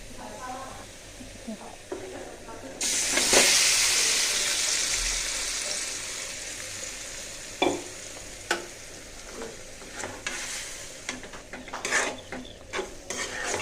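A tempering of fried onion and two dried red chillies is poured into curry in a scorched wok. It lands with a sudden loud hissing sizzle that slowly fades, followed by scattered stirring knocks and scrapes.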